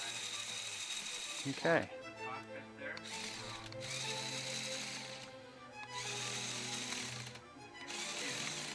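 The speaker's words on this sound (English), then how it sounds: "As you can see, it's spinning the wheel." A small servo motor spins a wheel on a Lego Ferrari model, producing a steady mechanical whir that stops and starts in short runs, with a quick spoken word near the beginning.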